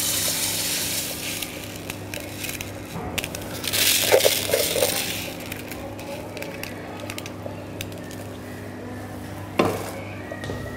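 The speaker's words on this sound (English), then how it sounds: "put some boiling water in this saucepan, and then I'll tip my rice into it" Roughly 500 grams of long grain rice is tipped from a container into boiling water in a saucepan. It makes a close, gritty rattling rush of grains that swells for a couple of seconds, with scattered clinks and bumps before and after.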